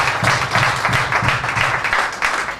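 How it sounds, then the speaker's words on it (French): Wedding guests at an official ceremony applaud the bride, a steady burst of clapping from a gathered crowd, fairly close and continuous for a couple of seconds with no speech on top. "On l'applaudit."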